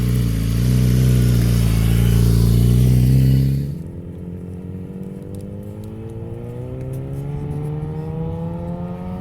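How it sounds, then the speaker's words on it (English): A land speed racing motorcycle launches and accelerates hard on the Bonneville salt flats. The engine roars loudly for several seconds, then the sound drops as the bike pulls away, its note rising through the gears with wheel spin, with no talking. "I could hear it setting off from the line, got to about fourth gear and was wheel spinning a bit."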